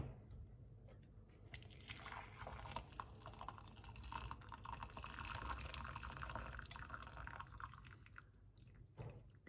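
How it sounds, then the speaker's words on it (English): Boiled magenta plant leaves are strained out of their dark magenta liquid, giving a quiet, continuous pouring and trickling close by with faint clinks and dribbles throughout and no talk. "Turn off the heat and strain out the liquid."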